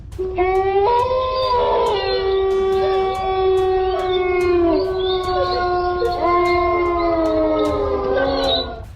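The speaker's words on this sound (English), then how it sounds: "Could the howling be coming from somewhere else?" A long, wavering howl rises and falls in pitch, sustained and loud, with several overlapping drawn-out cries and no break between them.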